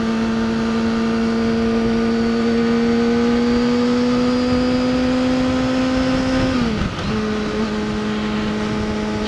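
A Kawasaki Ninja ZX-6R being ridden, its engine holding a steady loud drone before a quick gear shift briefly dips the pitch, then the note settles again under continuous wind noise.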